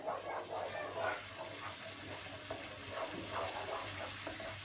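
Cheese and cornmeal mıhlama is stirred in a pan on the stove, giving a soft, continuous scraping and bubbling sizzle at low volume with faint rhythmic strokes.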